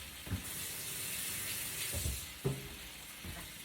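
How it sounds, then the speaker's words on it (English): Running tap water splashes over hands at a kitchen sink while someone cooks, a steady low hiss with a few soft, brief splashes and clatters, fairly quiet and close. "I'm just gonna quick rinse my hands."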